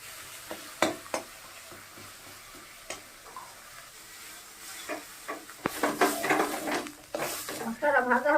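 A spice paste of onion, tomato, ginger, cumin, chilli, turmeric and salt frying in a pan for a fish curry, with a low sizzle, scattered spoon clicks and stirring scrapes that grow busier toward the end.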